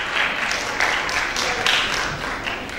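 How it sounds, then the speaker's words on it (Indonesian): An audience at a pre-launch event breaks into applause, a dense burst of close clapping that surges in a few waves over a short span. "Tepuk tangan juga untuk majalah All Film."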